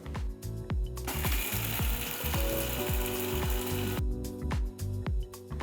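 A spice grinder runs in loud bursts on cumin, cinnamon, cloves, cardamom and Kashmiri red chilli powder, with a rapid rattling, clattering texture and short stops between pulses.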